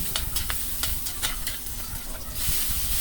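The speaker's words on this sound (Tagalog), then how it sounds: "magigisa na tayo ng ating bawang" Garlic and onion sautéed in smoking-hot oil in a pan, a loud close sizzle broken by quick clanking strokes of the spatula, with no talking.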